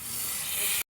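Water poured into a hot pan of frying egg masala hisses loudly in a single sharp burst of steam that swells briefly and then cuts off abruptly.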